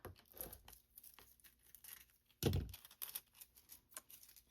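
A scrap piece of hot-foil crafting material being cut down by hand, giving quiet, sparse crinkling and snipping noises with one sharper, louder cut midway.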